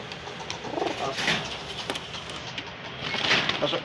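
Red-necked male pigeons of good quality coo repeatedly within a noisy flock, the low throaty calls swelling and fading in several bursts over a constant busy backdrop of chirps and rustling.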